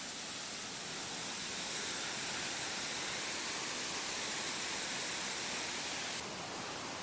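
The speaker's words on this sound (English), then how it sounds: "There's a small waterfall right down here." Creek water rushes over a small waterfall in a jungle-like wooded spot, a steady loud broadband roar with no voices over it.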